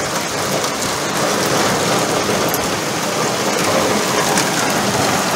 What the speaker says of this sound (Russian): Происходит дождь.